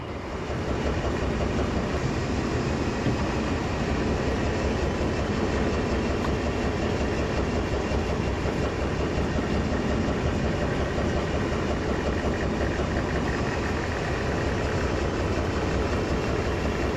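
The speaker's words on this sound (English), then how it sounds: "Class 28, making final preparations to depart the yard with its special train, the Condor." A model Class 28 diesel locomotive runs steadily with a deep engine hum and faint rail clatter, continuous and close for the whole stretch.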